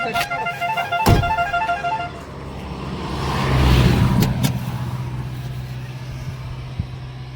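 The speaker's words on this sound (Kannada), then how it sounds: "ಗಾಡಿ ಬರ್ತಾ ಇದಾವೆ, ಹುಷಾರು" Vehicles approach on a road in Marur village near Arakalagudu. A motor swells to a close, loud pass, then fades into a low rumble, with a horn-like tone and brief clatter near the start.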